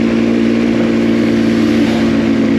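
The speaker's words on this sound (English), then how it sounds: "So I got to re-gear this bike because it revs out pretty quickly." X Pro Storm 150 DLX pit bike, an ultra light dual sport motorcycle, with its engine revving high and steady, loud and close, with wind noise and no talk.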